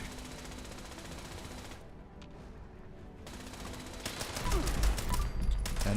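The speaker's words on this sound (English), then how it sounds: "Stop shooting me." Rapid automatic gunfire in the Fallout 76 video game, bursts of overlapping shots that grow louder and denser in the last two seconds after a brief quieter gap.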